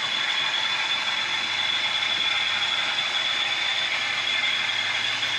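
Bachmann Class 40 model diesel locomotive, an older DCC-ready model fitted with a sound chip, gives a steady mechanical engine hum with a bright high whine, constant and fairly loud throughout without speech.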